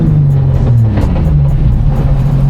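A Nissan 350Z engine idles steadily and loud up close, a constant low drone with a faint rhythmic pulse and no revving.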